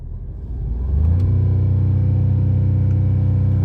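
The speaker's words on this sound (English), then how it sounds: "And when I rev the vehicle a little bit," Audi or Porsche engine with a faulty electromagnet element, revved from idle into a steady low, droning rumble that swells over the first second and then holds constant.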